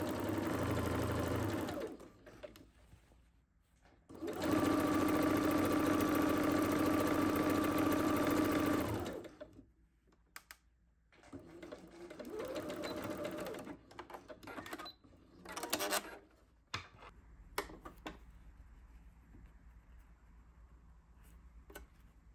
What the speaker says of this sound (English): stitch close to the edge of the fold to create our elastic channel